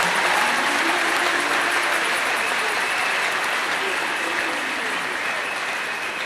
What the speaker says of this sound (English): Can we give a better clap offering to the Lord?